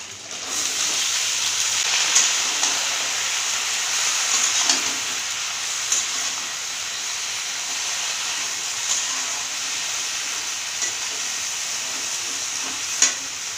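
Chopped Malabar spinach fries in oil released from fried fish, along with fried onions, giving a steady close sizzle and hiss with occasional stirring scrapes and no talk.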